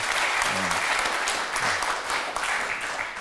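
Dense, loud clapping from a forum audience thanking a speaker, continuous throughout with a brief voice murmuring underneath.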